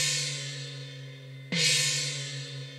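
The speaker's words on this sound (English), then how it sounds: "Let's try gong large 2." A large gong sample from a music library rings out as a low, sustained metallic tone, then is struck again partway through, with a bright attack that swells and fades slowly.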